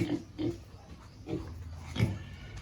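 Pigs on a homestead in the Philippines give several short, husky grunts and oinks in separate bursts, fairly close, with quieter snuffling between them and no talking.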